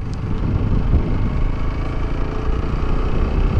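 A motorcycle engine runs in third gear at speed, a loud, steady low drone with a continuous rumble and little change in pitch, heard close with no talk.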